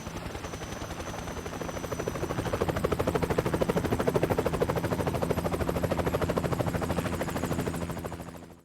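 A video game helicopter's rotor thumps in a rapid, steady chop, building slightly louder mid-way before cutting off abruptly, with no voices, in Metal Gear Solid 3.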